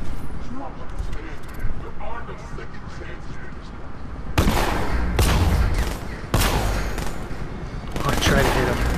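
The remote-controlled Batmobile in the video game Arkham Knight fires its guns in heavy, booming volleys. Bursts come in waves and are loudest in the second half, with a person talking over the first part.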